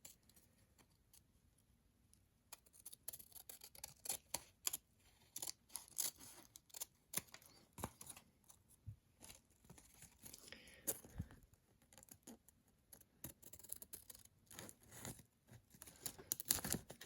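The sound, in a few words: scissors cutting paper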